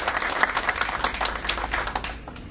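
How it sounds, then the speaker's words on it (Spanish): Steady applause from an audience fills a university press conference, a dense continuous patter of clapping at moderate volume that eases slightly toward the end. "Un fuerte aplauso para esta universidad."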